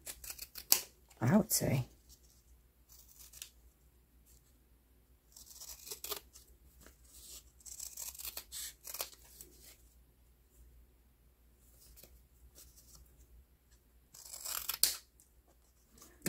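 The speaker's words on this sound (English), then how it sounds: "I'm gonna have to cut this with the scissors" Scissors snip through paper in a few bursts during crafting for a travel junk journal, crisp cuts near and fairly loud, with quieter rustling in between and a short spoken phrase.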